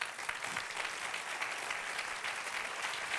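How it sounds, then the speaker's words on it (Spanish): Church congregation applauding at the close of a Spanish-language sermon, steady dense clapping filling the whole stretch at an even, sustained level. "Dale un aplauso al Señor."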